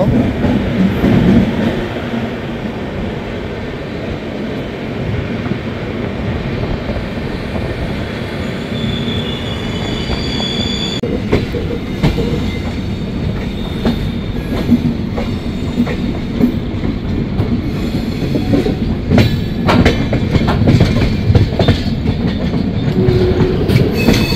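Rupasi Bangla Superfast Express from Santragachi to Purulia rolls into platform 1 at Anara station, loud and close, with a rumbling roar, rhythmic clickety-clack of wheels and high squeals of braking wheels throughout.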